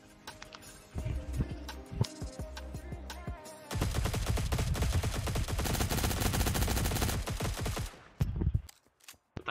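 Bursts of automatic gunfire in a Fortnite match, starting as scattered shots, then a dense sustained volley of rapid rounds, close and loud, before tapering into a few isolated shots.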